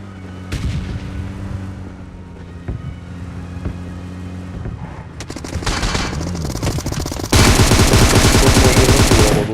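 Rapid automatic M762 rifle spray fire in a PUBG-style video game, bursts building up and becoming louder and denser toward the end, with a steady engine-like hum underneath.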